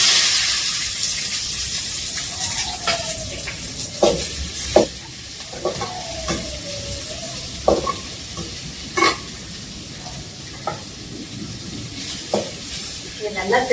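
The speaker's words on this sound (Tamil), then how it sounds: "கடுகு பொரிஞ்சிச்சுங்க, வெங்காயம் போட்டுக்கலாங்கம்மா." Chopped onions frying in hot oil with popped mustard seeds for kadugu thokku, a steady close sizzle with intermittent stirring scrapes and clinks of a ladle against the pan, no talk.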